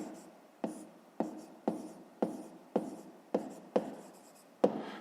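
A math answer being written by hand, about eight short taps and scratches at a steady pace, close and quiet, no talk.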